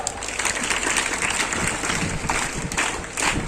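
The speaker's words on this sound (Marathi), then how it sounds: "त्यांच्यासाठी जोरदार टाळ्या." Applause at an annual prize-distribution ceremony: a short burst of many hands clapping together, moderately loud and dense, with no talking over it.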